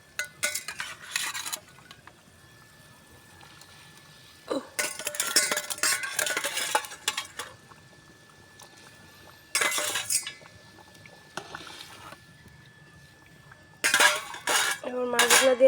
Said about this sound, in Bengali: দেখো বন্ধুরা, ঝোল ফুটে গেছে, এবার মাছগুলো দিয়ে দেব।